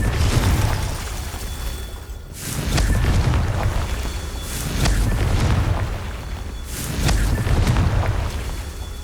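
Spell explosions from the Confringo charm in the video game Hogwarts Legacy: three heavy, rumbling booms a few seconds apart, each swelling loud and then fading into a low roar.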